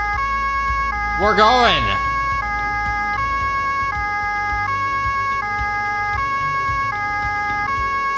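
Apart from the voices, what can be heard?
police car siren in video game Autobahn Police Simulator 3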